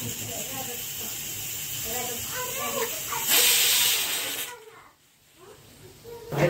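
A pressure cooker cooking dal lets off a loud, steady hiss of escaping steam, rising into a stronger whistle-like rush, then cutting out briefly before the hissing returns. It is close, with faint background sounds and no clear speech.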